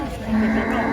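A single cow in a shed lets out one short, loud, close moo over a steady background hum.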